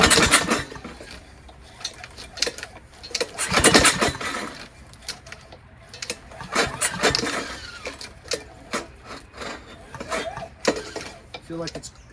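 A junk Honda GCV160 lawnmower engine grinds and clatters in uneven metallic bursts, loud and close, with scraping knocks scattered throughout.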